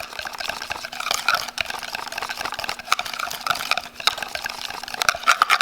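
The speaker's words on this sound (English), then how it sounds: "You really have to mix this well, because if there's any chunks in there, it won't mix evenly." Hair color remover being stirred and mixed by hand in a bowl, a continuous wet, sloshy swirling with soft clicks, close and steady throughout.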